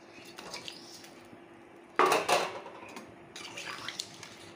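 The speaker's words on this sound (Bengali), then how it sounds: "এখন আমি জল অ্যাড করে দেবো" Water poured into a pot of katla fish curry with taro stems, a short close splash and gush after a quiet stretch, followed by softer pouring and utensil clinks.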